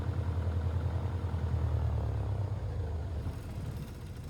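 The engine of a Bucker Bu-131 Jungmann biplane in Microsoft Flight Simulator idles with a low, throbbing rumble, then gradually slows and fades as it runs down.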